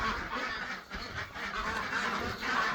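Ducks in a barn duck stall give repeated nasal quacks and honks, a busy overlapping chorus close by with a short dip midway.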